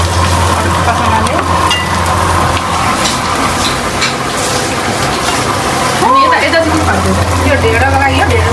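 A pot of water boils for Nepali dhido, with a loud, steady bubbling and gushing that runs throughout, and a brief voice-like sound partway through.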